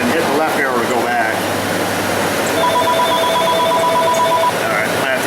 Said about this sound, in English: I'm going to have to answer the phone here